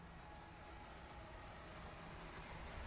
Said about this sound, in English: Okay, that's a loud train, so never mind.